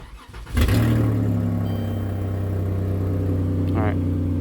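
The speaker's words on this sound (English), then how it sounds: "get in your vehicle, start it up" A car engine cranks and catches with a sharp burst, then settles into a steady, loud idle that holds throughout, with a brief higher chirp late on.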